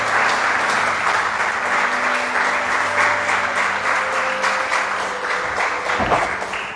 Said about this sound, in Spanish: ¿Por qué no le das un aplauso al Señor, mi hermano?